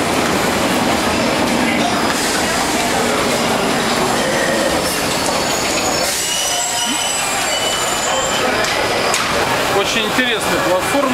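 A Stockholm metro train rumbles and clatters at a station platform, loud and close, with wheel squeal and rail clicks over a constant roar while someone speaks over it.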